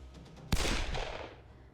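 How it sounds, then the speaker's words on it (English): A single sharp gunshot crack in the visual novel Hakuoki, loud and close, bursting out of a low ambient hum and trailing off in a long echoing decay. "the crack of a second gunshot slammed into my eardrums"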